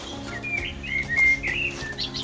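Birds chirping and singing in a forest near Alesund, Norway, in quick, high twittering phrases over a quiet, low background hum.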